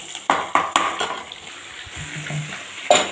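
Tomatoes sautéed in a pan with a spoon or spatula, giving several sharp clanks against the metal at the start and once near the end over a steady soft sizzle, close by.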